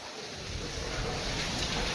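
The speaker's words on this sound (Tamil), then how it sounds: "சில்லுன்னு காத்தடிக்குது, மழை பெய்யுது." Rain falls in a cool wind, making a steady, broad hiss that swells slightly over two seconds. No speech is heard.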